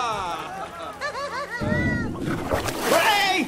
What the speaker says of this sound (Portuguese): A água está enchendo a gruta.